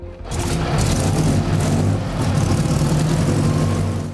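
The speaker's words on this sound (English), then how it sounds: "Compressor engine back then, 100 years ago. I mean, the sound is amazing." A restored 1924 Mercedes Targa Florio racing car with a supercharged compressor engine runs close by, a loud, steady mechanical roar with a rapid, rough pulse. It keeps a near-constant pitch for several seconds.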